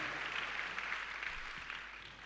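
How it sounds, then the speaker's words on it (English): A church congregation claps steadily at a Sunday service, giving a clap offering to a reverend; a dense, even wash of many hands continues without break for a couple of seconds, heard from a moderate distance. "Give the Lord a clap and a shout."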